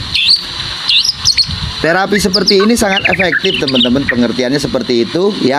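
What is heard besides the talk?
white-rumped shama (murai batu) bird singing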